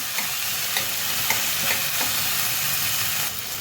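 Onion for schezwan fried rice fries in a pan with a dense, continuous sizzle and faint periodic stirring scrapes, heard up close with no voices, easing slightly near the end.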